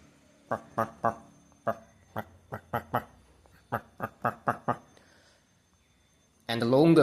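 A person imitates a female duck's call with a series of short, nasal quacks in irregular clusters, about a dozen in all, followed by brief talk at the end.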